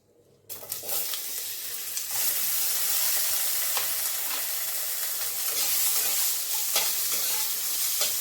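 Potatoes dropped into hot oil with a bay leaf for a rui fish curry with bitter gourd and eggplant, bursting into a loud, steady, close sizzle that holds for several seconds after a quiet start.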